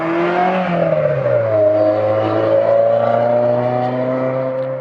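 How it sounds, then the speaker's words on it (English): A noisy car drives past outside while a small vintage camper trailer is being worked on, its loud, droning engine tone sliding lower as it passes, then holding a steady hum before slowly fading. "just waiting while that noisy car goes by"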